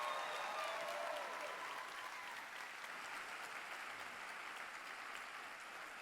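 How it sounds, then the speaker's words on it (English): Audience in Munich applauding to welcome True Mother before her message, a continuous broad wash of many hands clapping heard from a distance, steady then easing slightly, fairly faint. "So let's once more give a great applause and welcome to our beloved True Mother"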